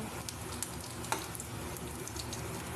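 Fish fritters made from lote (Bombay duck) fish, chop-style pakoras, frying in hot oil with a steady, dense sizzle and a few sharper crackles, with no voices.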